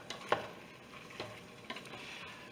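A few faint, scattered scrapes of a spoon stirring beef browning in a pressure cooker for beef bourguignon, quiet and sparse with soft background hiss.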